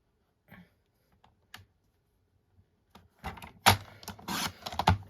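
Cardstock being cut into a 1/4 by 6 inch strip for a paper craft treat purse, a run of dense crisp cutting and rustling sounds close by after a few faint taps.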